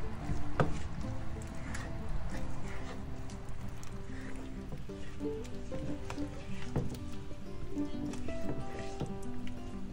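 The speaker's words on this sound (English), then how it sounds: "Give it a stir." Oxtail rasta pasta with grated cheese is stirred in a pan, with wet squishing and scraping over light music.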